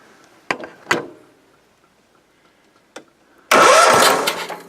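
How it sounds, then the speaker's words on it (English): A car engine, just swapped in, is cranked with the key: two short clunks, a brief pause and another click, then it fires and catches into a loud, steady close-up run with no talking. "Let's just give her a turn, make sure she turns."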